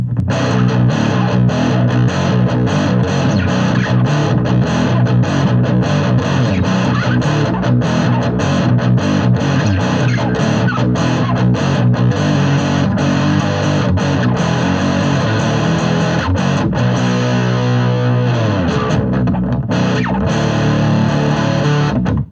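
A heavy, thick distorted Harley Benton R 457 electric guitar on its neck pickup plays continuously and loudly, with a warm, dark tone and chugging riffs throughout.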